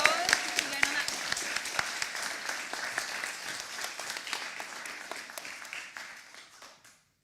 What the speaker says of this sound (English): can we give her a massive round of applause?